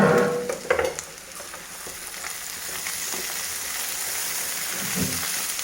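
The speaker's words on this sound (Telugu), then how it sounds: "ఈ కట్ చేసుకున్న ఆనియన్స్ అన్నీ ఇందులో వేసేసి కలపెట్టేసి మళ్ళీ కాసేపు మగ్గనిద్దాము" Chopped onions stirred into potatoes and beans frying in a pan, a few scraping stirs at the start followed by a steady close sizzle with no talking.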